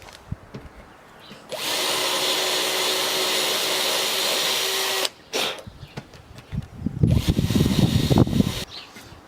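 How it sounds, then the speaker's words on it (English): A power drill whirs steadily for several seconds while its bit works the screw holes in wooden ramp supports, then stops; after a brief pause come knocking and handling sounds and another short burst. "just get your drill bit you used for doing these holes on the supports, just wiggle it about a bit to make it easier to get the screws on and off"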